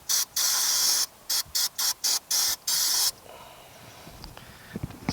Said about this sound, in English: Let's spray those points off. So we got some carburetor cleaner.